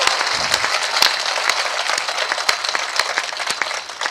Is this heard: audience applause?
yes